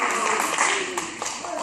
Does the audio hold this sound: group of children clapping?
yes